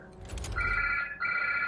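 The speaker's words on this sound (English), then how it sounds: "the stupid phone." A phone rings in Marvel's Spider-Man Remastered in two close electronic trilling bursts with a brief break between them, clear over a low rumble.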